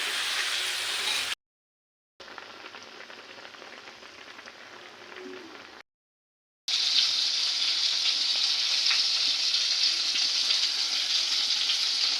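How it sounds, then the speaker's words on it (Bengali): Eggplant slices frying in a pan in a home kitchen: a steady, close sizzle and spatter that runs throughout, broken by two short silent gaps. "এখন বেগুন ভাজা বসিয়েছি"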